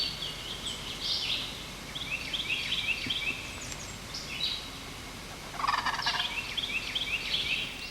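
A wild turkey hen gobbles repeatedly in rough bursts, fairly distant in an open outdoor setting with faint background hiss and no voices.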